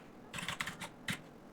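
A handful of quick, light keystrokes tapped on a computer keyboard to enter a phone number, close and quiet in a still room.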